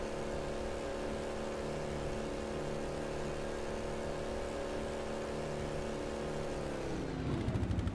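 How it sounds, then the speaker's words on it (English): A vehicle engine in Halo 3 hums at a steady, even pitch, then its tone drops and shifts near the end; no talk. "You can hear that engine going."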